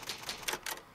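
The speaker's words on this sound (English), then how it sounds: "I am very happy that the typewriter is being implemented in these remakes and everything." Resident Evil Remake typewriter save point, giving four quick, crisp key strikes in a brisk rhythm, close and fairly quiet against a faint background.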